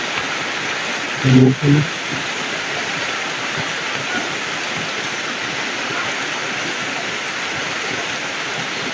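Heavy rain pours down in a steady, loud, broadband hiss that fills the whole scene, with a short burst of human voice near the start.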